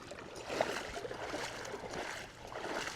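A creek flows past during a crossing on a fishing outing, making a faint, steady rushing and gurgling wash of water that carries on throughout with no talk over it.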